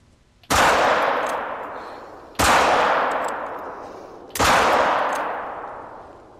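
Three loud rifle shots from the hunting game theHunter: Call of the Wild ring out about two seconds apart, each a sharp crack trailing off into a long echoing decay.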